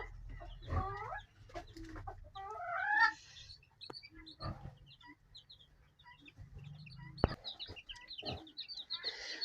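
Hens cluck in short, irregular bursts at close range, with some higher calls scattered over a steady low rumble.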